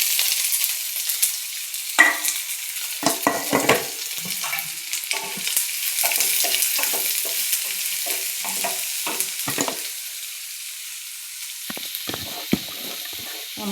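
Chopped kanthari chili, ginger and onion fry in a pan with a continuous close sizzle, broken by repeated clattering stirs and scrapes.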